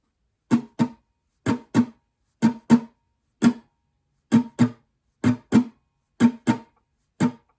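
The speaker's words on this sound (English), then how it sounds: "this layer is just one muted strumming pattern played twice." Muted strumming on an acoustic guitar, a percussive pattern of paired choked strums repeated in a steady rhythm across two passes, close and clear with no voices.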